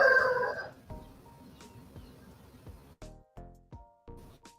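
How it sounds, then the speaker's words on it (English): Rooster and chickens clucking and calling around a home farm compound, a loud crow-like burst at the start followed by a run of sharp, intermittent clucks at moderate distance. "When you hear the birds making noise, Pastor Malik is a farmer."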